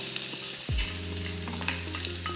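Onion drops into a piping hot pan with a sudden thump, then frying starts at once: a steady, close sizzle with faint crackles and a few light clinks as it goes on. Nobody is talking.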